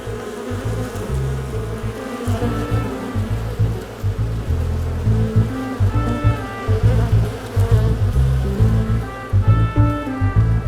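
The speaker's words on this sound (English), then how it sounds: "But look at all these bees." Dense, steady buzzing of many bees, a continuous droning swarm close by with individual insects rising and fading in pitch.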